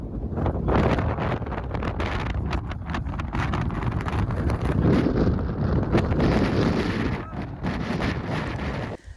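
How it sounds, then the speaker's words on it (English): Strong coastal wind at Lüderitz, Namibia roars and buffets loudly and continuously against the microphone, with gusty rumbling and rustling throughout, briefly easing near the end. "we were about to discover that the wind here had a whole different personality"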